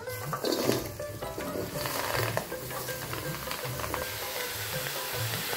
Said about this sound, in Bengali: এখন সবজিটা দিয়ে দিব